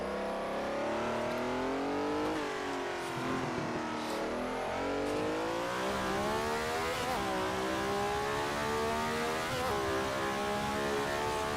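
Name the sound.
historic Formula One race car engine in Assetto Corsa video game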